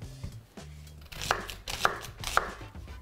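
A knife chops vegetables finely on a board for gazpacho, a series of crisp close thumps, about three sharp strikes landing roughly half a second apart after some softer taps.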